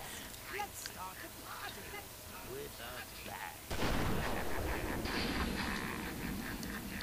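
Gunfire in Batman: Arkham Asylum, a dense burst of shots that erupts partway through and keeps rattling loudly after a quieter stretch of game noise.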